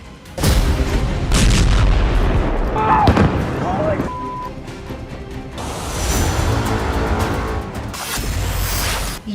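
Deep booming blasts and rumbling bomb explosions from night airstrikes in the Iran–Israel war roll through a dense, noisy mix, with a brief tone and crackling bursts.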